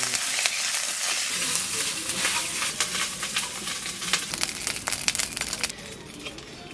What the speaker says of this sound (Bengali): চাপাইলো সর্ষে তেল হালকা করে দিচ্ছি, এবার জিরে দিচ্ছি,